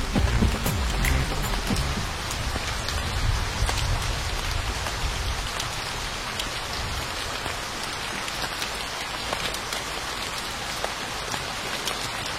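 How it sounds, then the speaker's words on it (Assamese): Steady rain patters hard on a surface, a dense, continuous hiss with scattered drops, close and loud throughout. "বৰষুণ দিছে"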